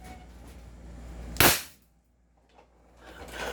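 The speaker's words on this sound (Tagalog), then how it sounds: "Okay, firing po tayo mga ka-airsoft." An 800 FPS airsoft gun fires a single sharp, loud shot from close by, standing out against quiet background noise.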